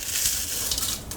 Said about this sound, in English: Me crushing them in here will probably help with that a little bit